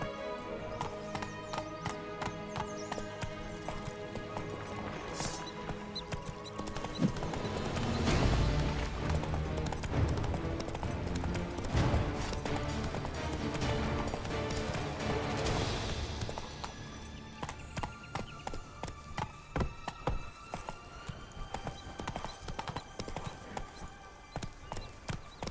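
Hooves of a galloping horse in The Witcher 3 video game drum in a rapid, continuous rhythm, swelling loud in the middle and easing into steadier clip-clop, with brief spoken lines.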